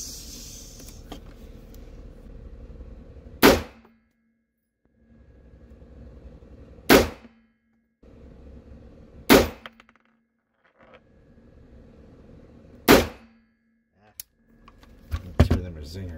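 Gunshots at an outdoor shooting range with a scoped firearm: four loud, sharp single reports spaced several seconds apart, then a quicker cluster of shots near the end, over background noise.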